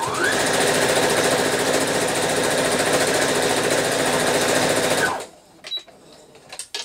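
A sewing machine stitching fabric pieces, a continuous fast buzzing whir that runs steadily for about five seconds, then stops abruptly, leaving faint handling clicks.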